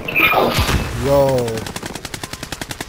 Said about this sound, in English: we got big shooting going on around here.